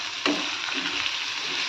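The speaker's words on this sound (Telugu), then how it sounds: "అల్లం వెల్లుల్లి పేస్టు, పచ్చిమిర్చి, ఉల్లిగడ్డ, సౌతికాయ, టమోటో ఇవన్నీ కడాయి పెట్టుకుని వేయించుకుంటానండి" Ginger garlic paste, green chillies, onion, cucumber and tomato fry in a kadai with a steady close sizzle and a brief stirring scrape near the start, no voices.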